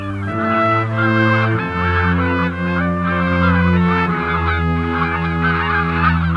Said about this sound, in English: You look at the millions of waterfowl